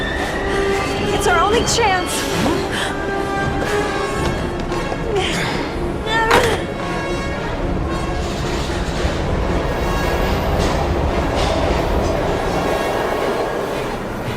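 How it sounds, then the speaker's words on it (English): A train rumbles and rattles past in the video game Heavy Rain, with metallic squeals and clanks over a continuous heavy roar while characters shout urgently over it. "We've got to get on that train"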